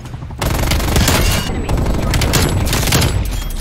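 Sustained light machine gun fire in Black Ops Cold War, loud and close, roaring almost without a break through the clip after a brief quiet start, with someone talking over it.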